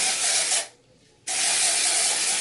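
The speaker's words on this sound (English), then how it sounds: "This is the dry shampoo I use. I love it. And then I just spray all over." Two long bursts of dry shampoo aerosol sprayed over hair close by, separated by a brief pause, each a steady pressurized whoosh.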